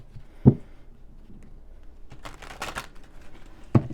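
A brief rustle and riffle of oracle cards being shuffled, with soft taps at the start and end, fairly quiet and close.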